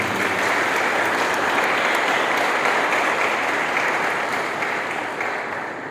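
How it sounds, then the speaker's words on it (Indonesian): A seminar audience at a university event breaks into loud, dense applause that carries evenly for about five seconds before fading off at the end. "Boleh tepuk tangan, jangan lagi-lagi."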